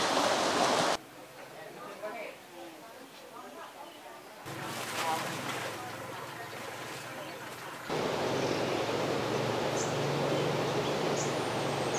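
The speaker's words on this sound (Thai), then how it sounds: "เสียงน้ำตกนี่ดังเหมือนกันนะ" Steady broadband rush of a forest waterfall at Pa Miang, Lampang, Thailand, loud and close, broken by shifts in level as the listener moves; faint voices and birds sit underneath.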